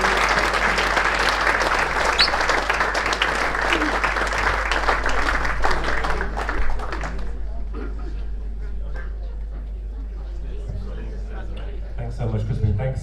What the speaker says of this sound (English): Do we have a round of applause for Ranjeet?